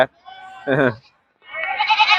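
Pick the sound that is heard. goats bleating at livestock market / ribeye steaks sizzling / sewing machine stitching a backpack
goats bleating at livestock market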